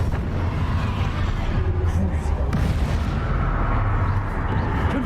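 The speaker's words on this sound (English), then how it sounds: "Incendio. This is for Professor Fig" An Incendio fire spell is cast in the Hogwarts Legacy video game during dense combat. Loud, continuous whooshing blasts and rumbling booms overlap without pause.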